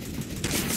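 Gunfire in Counter-Strike: Global Offensive, a short rapid burst of shots loud and close over a constant game background.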